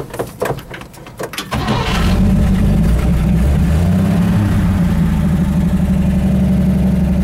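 A 1959 Dodge car that had sat in a field for 20 years cranks with a few quick turnovers, catches and fires up, then settles into a loud, steady, rumbling idle close by.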